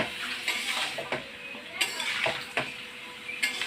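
A spoon stirs mixed vegetables in a cooking pot, giving close, intermittent scraping strokes and metallic clinks against the pot at an unhurried rhythm, with no talking.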